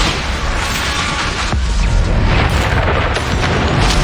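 Spell blasts and explosions from the video game Hogwarts Legacy, played with mods, come as a dense, loud, continuous rumble with booming low-end bursts that swell and overlap for the whole stretch.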